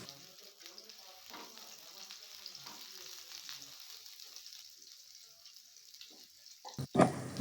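Chopped onions sizzle and fry in oil while being stirred for chicken pulao, a steady soft crackle throughout with a few faint scrapes and a louder clatter near the end.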